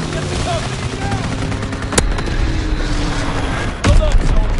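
Anti-aircraft gunfire in a WW2 video game, with an incoming bomb: steady rattling fire runs throughout, broken by two sharp loud cracks and a heavier burst near the end, with voices under the din.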